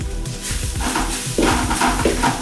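Green chillies sauté in a pan with a soft sizzle as a spatula stirs and scrapes, producing repeated light clinks and scraping strokes close by.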